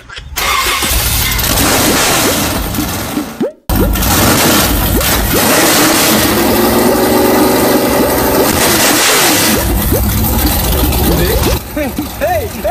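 A car engine runs and revs for several seconds with a brief cutoff, while people talk loudly over the mechanical drone.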